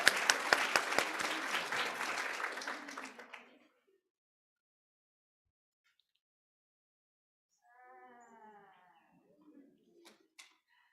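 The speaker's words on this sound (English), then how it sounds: "Let's give her another round of applause" Audience applause at a spring speech pathology hooding and pinning ceremony, a loud dense burst of clapping for about three and a half seconds that stops abruptly, followed by near silence and faint brief voices.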